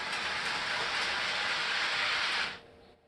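A train, apparently a model railway shown in an operations demonstration, runs with a steady broadband rushing roar that cuts off abruptly near the end, leaving a faint residual hum, with no talking.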